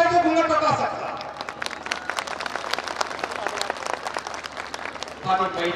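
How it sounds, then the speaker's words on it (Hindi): Audience of men and women clapping at an impassioned Buddhist sermon by a monk, a speaking voice briefly at the start, then a burst of scattered, uneven handclaps that thins out before the voice returns. "ताली महिलाएं भी बजा रही है"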